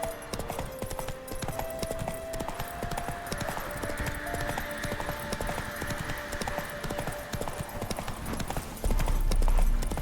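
Hoofbeats of Roach, Geralt's horse in The Witcher 3, gallop in a steady clip-clop rhythm against game music and ambience, with a brief louder burst near the end.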